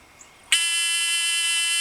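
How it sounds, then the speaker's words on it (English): An electronic buzzer driven through an N-channel MOSFET switch circuit snaps on abruptly and holds a loud, steady, piercing tone with no talking. "the buzzer turns on"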